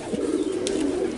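Kentong pigeon cooing: one low, steady, droning coo heard close for about a second, with no voices.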